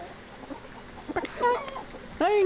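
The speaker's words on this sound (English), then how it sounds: "Oh, you can kind of hear them clucking." Chickens in a hen house in Phasmophobia give a few scattered soft clucks, then a louder, drawn-out squawk near the end, fairly close with no talking.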